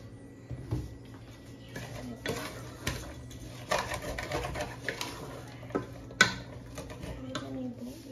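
Spatula scraping and clinking in a frying pan while vegetables are mixed for fried rice, irregular soft knocks and scrapes, fairly quiet, with a brief louder clack near the end.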